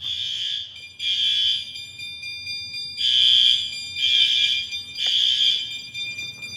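A building fire alarm under test blares loud, piercing electronic tones in repeated bursts of about a second, separated by short gaps.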